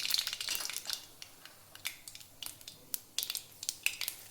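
Mustard seeds crackle and pop sharply in hot oil in a kadhai on a gas stove, a rapid scatter of close, bright bursts with short gaps between them.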